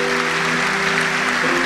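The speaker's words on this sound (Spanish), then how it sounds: "Le damos palmas a la Reina del Cielo." Congregation clapping during a Catholic Marian service, a brief steady burst of applause with a sustained tonal hum of music underneath.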